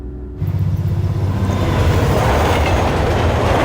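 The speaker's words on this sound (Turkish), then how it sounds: "Bak metro geldi." A metro train rumbles loudly and steadily into a station, wheels clattering on the rails as it draws close.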